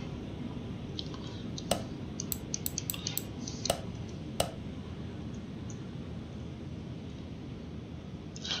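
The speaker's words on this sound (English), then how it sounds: "What was that typing there?" Keyboard typing during a Car Mechanic Simulator 2021 session, a short burst of light clicks and taps around the middle over a steady background hum, faint and brief.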